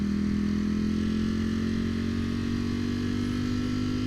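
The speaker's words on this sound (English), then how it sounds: "can we just talk about how freaking good this exhaust sounds?" A brand-new, unmodified 2021 Ducati Streetfighter V4S on its stock exhaust idles with a steady, loud, even rumble, the low engine note holding continuously throughout without revving or talk.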